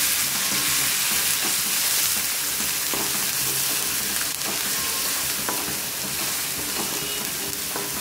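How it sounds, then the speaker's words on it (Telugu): Ground paste of two medium onions frying in oil in a pan, a dense continuous sizzle with occasional stirring clicks, close and steady throughout. "మిక్సీలో గ్రైండ్ చేసుకొని పెట్టుకున్న పేస్ట్ వేసుకొని ఫ్రై చేసుకోవాలి."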